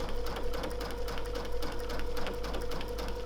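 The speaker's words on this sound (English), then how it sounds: "So I'm going to continue quilting now." A sewing machine stitches steadily during machine quilting, a fast continuous mechanical whirr with rapid needle ticks, heard close and alone without talk.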